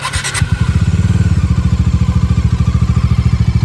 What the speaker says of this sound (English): Now let's start this motorcycle.